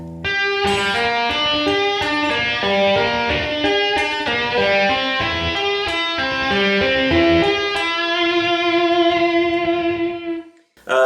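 Fast tapped and pulled-off electric guitar notes ripple in quick, even runs, ringing clearly without talk, ending on a sustained note that fades away.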